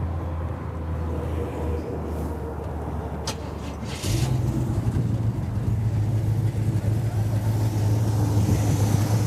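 A restored 1968 Ford Mustang California Special cranks briefly and fires up about four seconds in, then settles into a steady, close, rumbling idle for the rest.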